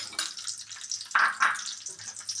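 Ginger, garlic and shallots dropped into hot coconut oil, giving short bursts of sizzling and crackling with a few stirring taps, close and fairly quiet, no speech over it.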